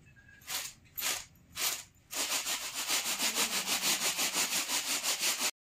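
Crispy homemade wafer chips tossed with salt in a bowl, giving a few separate rustling bursts and then a steady, rhythmic dry shaking and scraping that keeps going close by, with no talking.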